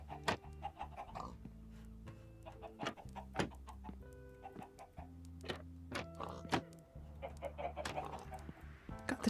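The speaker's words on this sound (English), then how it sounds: "God, the chickens are so loud." Video-game chickens cluck loudly and repeatedly in quick, overlapping bursts, with sharp squawks scattered among the steady clucking and no talk over them.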